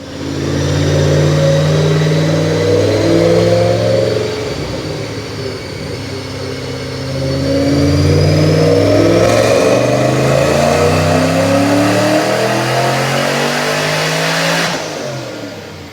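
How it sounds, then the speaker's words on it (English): Supercharged 302 stroker V8 in a 2005 Ford Mustang GT with long-tube headers, run on 93 octane, roars through a full dyno pull on a Paxton supercharger at 10 psi, climbing in pitch twice with a loud sustained rise and a whine on top, then cutting off. "Check out this dyno pull, and then we'll talk more about it."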